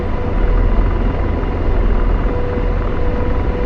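AH-64D Apache attack helicopter rotor in the DCS flight simulator, a steady loud broadband whir and low rumble that holds constant throughout with no voices.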